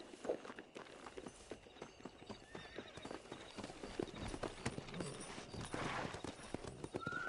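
Horse hooves in the Red Dead Redemption video game clip-clop in a quick, steady riding rhythm, close and continuous, with a brief whinny mixed in among game ambience.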